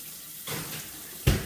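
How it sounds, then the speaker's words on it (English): A kitchen tap runs with a broad, soft rushing hiss that starts partway in and keeps going, ending with a short low thump close by. "Sorry for having water running on you guys."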